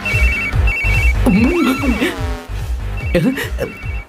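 An electronic phone ringtone plays a repeating melodic pattern, loud and close, with music or speech sounds mixed underneath.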